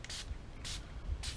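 Three short hissing spray bursts of Star Glow cleaner from a trigger bottle onto a Taurus 1911 pistol slide, evenly spaced and close by, with quiet pauses between them.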